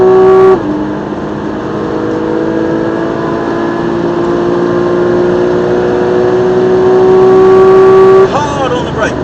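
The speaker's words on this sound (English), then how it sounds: "Now we can get on the throttle, start opening up the steering" A race car engine drones steadily and climbs under acceleration on the Silverstone circuit, heard from inside the car, with a brief gear change near the start and another toward the end.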